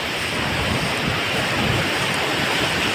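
Ocean waves wash along a village beach on a misty morning, a steady loud surf roar mixed with wind buffeting the microphone, continuous throughout with no voices.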